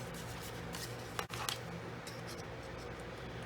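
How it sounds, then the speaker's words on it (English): Scissors snip through cardstock while making an oversized triple spinning card, giving one or two brief, close crisp cuts in a quiet room with no talking. "we're going to snip that off"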